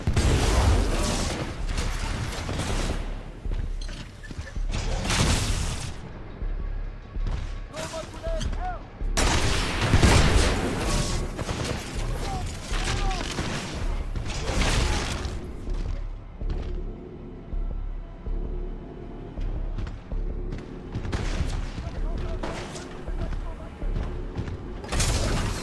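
Titanfall 2 match with a Scorch wall ability firing among dense gunfire and booming bursts, loud and continuous, while a person talks over the action.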